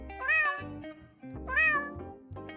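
Mr. Kitty, a cat in Judgesim, gives two clear, close meows in a row, each a drawn-out rising and falling cry separated by a brief pause.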